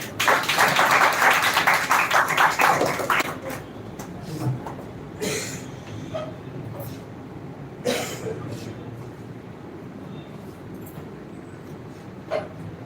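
A classroom audience at an English speech competition claps briskly for a few seconds, then fades to sparse taps and murmurs in a quiet room.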